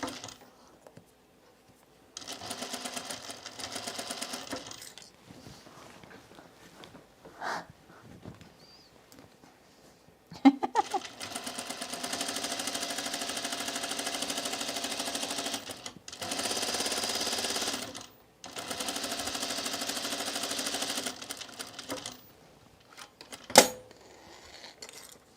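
A domestic sewing machine stitches three rows on an Azores dress, sounding as several bursts of steady mechanical whirring separated by short pauses, close and fairly loud, with no talking.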